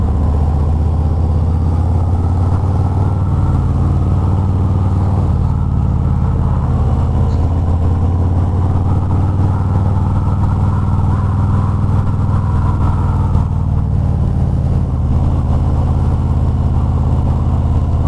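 A 2022 Harley-Davidson Road King 113ci engine chugs steadily at low revs in second gear, a deep, even thrum that holds without a break throughout, with no talking.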